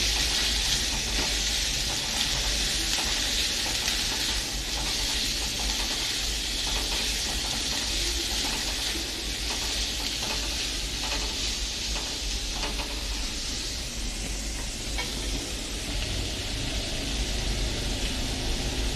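Chana ghughri sizzles steadily in a frying pan as it is stirred with turmeric and coriander-cumin powder, a dense continuous hiss with faint scraping, loud and close, and no talk.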